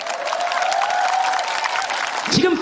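Audience applause at a public lecture in Bongha village, a brisk crackle of many hands under a speaking voice that runs through the clip.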